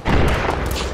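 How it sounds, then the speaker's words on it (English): A grenade blast in the military shooter Arma 3 on the Tanoa map, a single loud, close, low boom with a rumbling tail and no talk over it. "I'll just toss a grenade."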